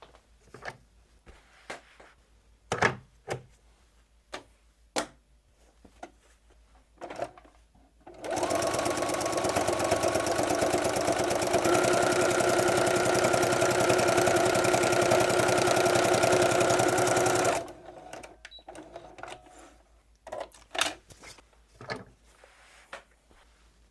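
A sewing machine stitches a patchwork stocking, a steady loud whirring run lasting several seconds, framed before and after by scattered clicks and fabric handling.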